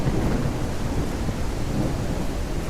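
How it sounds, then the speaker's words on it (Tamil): Heavy rain pours steadily in a video game thunderstorm on a ranch, with a dense, loud roar of downpour and low rumbling thunder throughout, no voices. "மழை அடித்து பொழக்குது. எப்பா மின்னுது கைஸ்."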